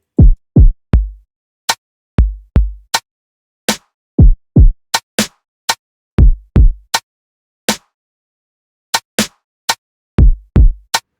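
A sparse electronic drum pattern of punchy kicks and sharp snappy hits, loud and dry with silences between beats.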